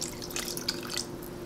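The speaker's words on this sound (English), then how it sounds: "So I'm only gonna add about 8 ounces of water." Water poured into a pot of chili for a keto tamale pie casserole, a close, steady trickle with small splashy drips over about a second and a half, no talking.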